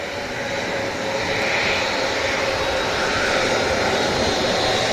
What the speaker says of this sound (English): Here is the Emirates A380 arrived at Manchester Airport's 23 right here on Airliners Live.